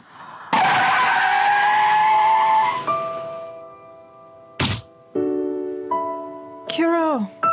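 In a video game, a car skids loudly with a long tire squeal, then a sharp thunk of impact follows. Sustained game tones and further abrupt hits and squeals come after it, with speech present.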